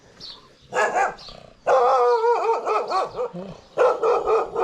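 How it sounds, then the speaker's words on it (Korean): A dog in a small Indian mountain village near Rishikesh barks loudly and close by, in repeated bursts of bow-wow barks with a short whimpering yip between them. "개 짖는 소리가 나네"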